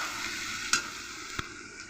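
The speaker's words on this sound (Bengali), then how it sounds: "আমি মাছগুলো দিয়ে আর একটু ভালোভাবে নেড়ে নেব।" A small piuli fish chochchori with potato, pointed gourd and eggplant is stirred in a sizzling pan, with a quiet frying hiss broken by two sharp spatula scrapes.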